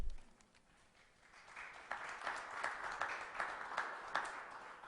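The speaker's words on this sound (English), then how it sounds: "can we have a round of applause for Mr. Meyer" Applause from an audience at a public event in honor of Greg Meyer, soft and distant at first, then swelling into steady clapping.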